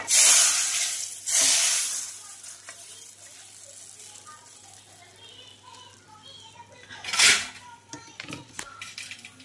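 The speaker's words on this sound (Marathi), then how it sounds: "आता यावर हा तडका घालायचा आहे।" Hot tadka tempering poured onto boiling varan (dal) bursts into a loud, close hissing sizzle that fades into a quieter bubbling simmer, with a second sharp sizzle flare near the end.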